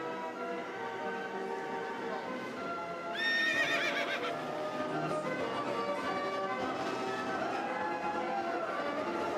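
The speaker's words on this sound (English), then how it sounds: "and I'm gonna ride a pony." A pony neighs in a loud, wavering whinny during a bike-tour lunch stop outdoors, with hoof clops and steady crowd chatter around it.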